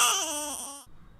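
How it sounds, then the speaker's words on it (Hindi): A child's high-pitched scream or wail sounds loudly and alone, a single sustained shrill cry that slowly falls in pitch before cutting off abruptly. "कुछ आवाज़ बहुत तीखी होती है, जैसे कि बच्चों की चीखने की आवाज़,"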